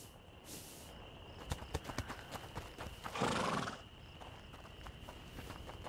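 Horses in the video game A Plague Tale: Innocence whinny and snort nearby as hooves clop in an uneven walking rhythm, over a steady background hiss.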